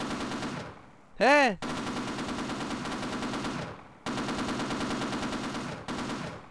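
Automatic weapon fire in Half-Life Source, shooting at crates in sustained rapid bursts broken by short pauses, loud and close. A brief electronic warbling tone cuts in early, and a voice mutters briefly.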